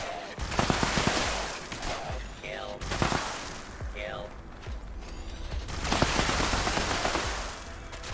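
Bursts of heavy gunfire from a powerful weapon in Fallout 76 while fighting a group of enemies including a Wendigo, with repeated loud shots over several seconds and a voice talking throughout.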